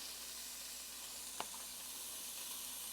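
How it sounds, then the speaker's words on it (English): Bacon sizzling in a hot pan while making kimchi fried rice, a soft continuous frying hiss with one sharp crackle partway through, quiet and with no talking. "Bacon going in to the hot pan."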